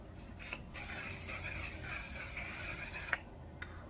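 A One Size setting spray hisses from an aerosol can in a steady, close burst lasting a few seconds, with short spurts before and after.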